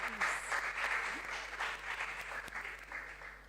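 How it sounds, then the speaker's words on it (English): Audience applause for junior science and maths quiz contestants at a regional qualifier in the Ashanti Region, a steady, dense clapping from a crowd filling the room and tapering slightly at the end. "Can we give them a round of applause?"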